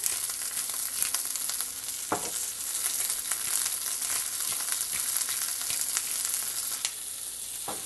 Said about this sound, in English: we're going to let the asparagus cook for about 5 minutes just so it gets nice and tender